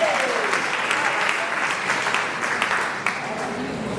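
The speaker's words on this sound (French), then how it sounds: "Applaudissez pour Ondogo." Audience applause at a 44th anniversary gathering of the Morena party in Ondogo, a steady wash of many hands clapping throughout, loud and close, with a faint voice briefly underneath near the start.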